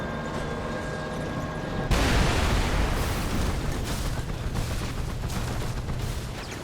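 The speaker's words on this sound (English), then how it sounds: "They're gonna blow my tank up." A tank blows up in the video game Mercenaries 2, a sudden loud blast that swells into a sustained roar of rumbling fire, debris and crackling gunfire that persists for several seconds after the initial boom.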